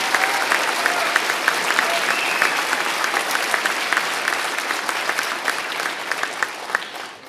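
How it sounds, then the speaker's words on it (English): A crowd at a fire academy graduation ceremony in Hampton Roads applauds James City County's newest firefighters, steady, dense clapping from many hands, close and full, continuing for several seconds before tapering off. "One more round of applause for James City County's newest firefighters."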